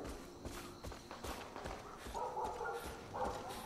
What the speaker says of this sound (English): maybe I should follow the barking when I'm looking for a dog